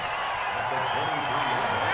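A steady, dense roar from a stadium crowd fills an NFL football game between the Baltimore Ravens and Cincinnati Bengals, loud and continuous throughout, with faint voices mixed into the din.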